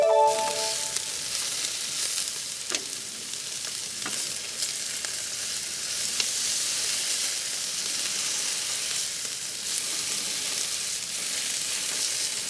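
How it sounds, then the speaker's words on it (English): Tuna searing on a hot grill tray gives a steady, loud, close sizzle and hiss that runs throughout, with a few faint clicks and scrapes. "Searing very nicely."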